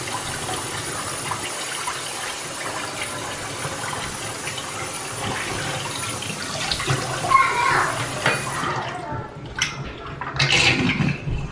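Black denim jeans being squeezed out after re-dyeing, with dye water splashing and trickling steadily; the wringing grows louder near the end with sharper splashes and gushes.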